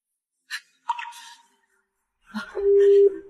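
A phone call goes unanswered, with a single steady ringback tone sounding briefly and clearly near the end, following a few short scattered sounds.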